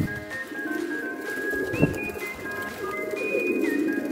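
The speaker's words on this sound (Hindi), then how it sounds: "ये देखें कितना खूबसूरत कबूतर है ये।" Soft, low pigeon cooing in a quiet setting, with a faint thin whistle-like tone running above it.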